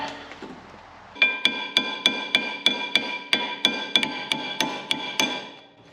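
Metal hammer strikes on rusted car parts ring out in a steady run of about fifteen sharp, loud, evenly spaced blows, each leaving a bright metallic ring.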